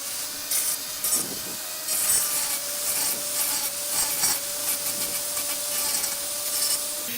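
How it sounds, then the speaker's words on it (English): A small rotary tool grinds a plastic model truck body from an AMT 1992 Chevrolet Silverado C1500 pickup kit, a steady high whine with bursts of gritty rubbing as the bit bites in, close and without talk. "I need to grind off a little bit more on this side."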